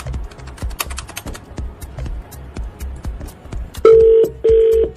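A rapid series of clicks like buttons being pressed, then two steady beeping tones from a telephone, close and clear.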